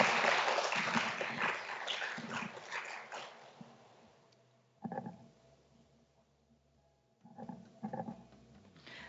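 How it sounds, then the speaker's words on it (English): Audience applause at a banking-hosted town hall meeting, a dense crowd clapping that fades out after a few seconds, followed by a couple of short bursts of clapping or movement. "Please give them all a round of applause."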